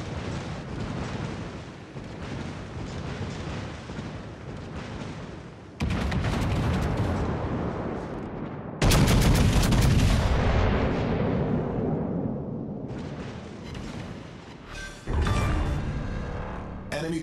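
Heavy naval cannon fire in the World of Warships-style game booms in repeated big blasts with long rumbling tails, loud and close, each salvo landing on the last.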